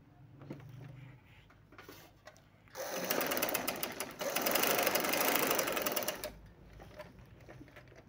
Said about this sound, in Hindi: इसको मशीन पे पक्का कर लेते हैं